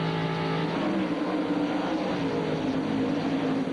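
NASCAR Busch Series stock cars racing at Bristol in 1998, a steady, loud roar of engines that swells as the cars press on together, with no talk over it.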